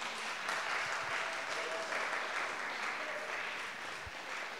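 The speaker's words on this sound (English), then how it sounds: "Please give another very warm applause" An audience applauds after a folk music performance, a steady, moderately dense patter of many hands clapping together in an indoor room, heard from within the crowd at an even level throughout.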